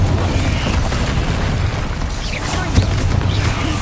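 An Incendio fire spell cast in a wizard video game, heard as a loud, continuous roaring whoosh and rumble of flame with a few soft pops, steady throughout and close, with a voice speaking faintly over it.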